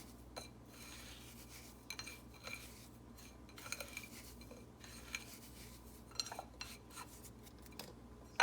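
Salted salmon seasoning is mixed in a bowl, giving faint, scattered scrapes and light clinks of a utensil against the dish, quiet and without speech.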